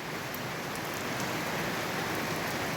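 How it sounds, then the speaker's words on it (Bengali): Heavy downpour of rain falling steadily, a dense, even hiss of drops on surfaces that is loud and continuous, with no voices. "মুষলধারে বৃষ্টি হচ্ছে, আপনারা দেখতে পাচ্ছেন।"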